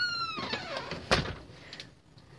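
The sliding back door of a treehouse cabin in Branson, Missouri opens with a brief rolling rumble and a single sharp thunk, close by and moderately loud.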